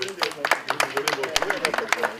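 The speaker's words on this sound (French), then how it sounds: "Donc des applaudissements aussi" A gathering at the opening of a pétanque tournament applauds, giving a couple of seconds of scattered, uneven hand claps close by, with a voice faintly audible underneath.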